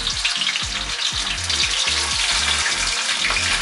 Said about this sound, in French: votre gigot d'agneau, que vous allez mettre dans l'huile, voilà, et on va le faire revenir sur toutes les faces